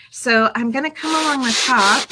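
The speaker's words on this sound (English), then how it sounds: "but I'm going to do a little sanding." Gentle rubbing of a worn foam sanding block, no longer very gritty, across the top of a fall decoupage shadowbox napkin art piece, a soft hiss running under a person talking.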